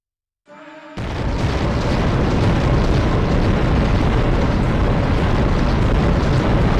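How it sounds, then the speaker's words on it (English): An ether cannon fires from a boss robot's chest in the video game Robot Alchemic Drive, opening with a brief tone, then breaking into a loud, sustained roaring blast that holds steady to the end, with no talk. "So the ether cannon comes out of his chest, which means ducking would not dodge it."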